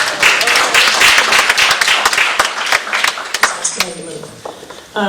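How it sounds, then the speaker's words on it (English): Applause from the audience at a dedication ceremony, scattered near claps and a broader crowd clapping that thins out toward the end, with voices breaking through. "Give yourselves a round of applause."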